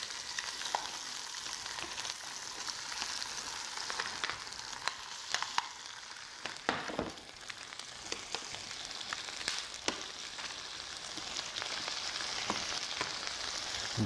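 Shrimp fry in a hot pan with a steady bright sizzle and scattered pops and clinks as they settle, fairly soft and continuous, with no talking.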